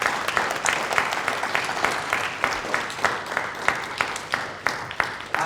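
At a school presentation awards ceremony, an audience claps steadily, the applause thinner and more distinct, with individual hand claps heard as rhythmic, pulsing bursts across the whole stretch.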